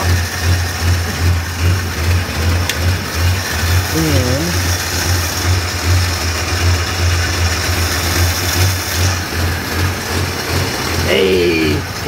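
A Dodge Dart engine idles steadily with a regular pulsing beat, loud and close, while brief mechanical chirps come and go over the running motor.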